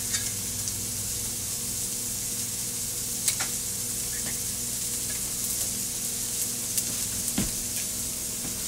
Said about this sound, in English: I'm going to add some roasted diced tomatoes.